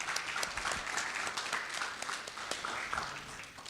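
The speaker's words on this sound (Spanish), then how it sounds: "Un aplauso para ambos panelistas por una excelente presentación" An audience at a panel discussion on the Panamanian economy gives the two panelists a round of applause, a dense, even patter of many hands clapping, moderately distant and fairly quiet.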